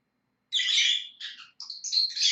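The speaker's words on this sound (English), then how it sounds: "3 of them are sitting together, and they're staring at me, and they're chirping." Several small birds chirp close by, giving rapid high twittering bursts in quick succession with brief pauses, loud against otherwise silent surroundings.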